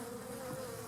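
Honey bees buzz at the entrance of a hive fitted with an entrance feeder, a dense, steady droning hum that stays continuous and close, with no voices.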